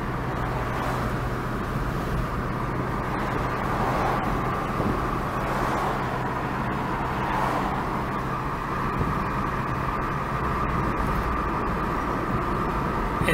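Steady, continuous road and engine rumble inside a 2005 Chrysler PT Cruiser Convertible on a drive, a low, even cabin drone with no clear squeaks or rattles.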